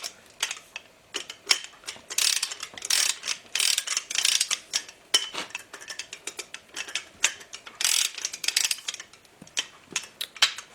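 Torque wrench clicking repeatedly while crank main bolts on a GM 4.3 Vortec V6 are tightened toward 70 foot-pounds; sharp, close, irregular ratcheting clicks in quick bursts with no talking.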